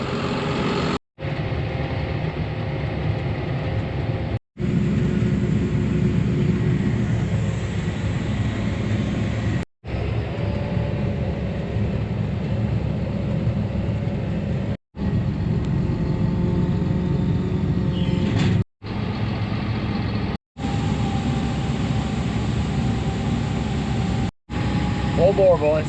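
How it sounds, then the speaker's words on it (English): A 2005 farm tractor engine runs steadily at a low, heavy drone, close and continuous, broken by several brief cuts of silence. "Darn good running tractor here. 2005."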